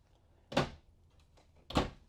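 The small exterior access door to the trash compartment of a 2024 Flagstaff Classic 826MBR RV makes two separate soft thuds, about a second apart, like a light panel being opened and then shut, close and otherwise quiet.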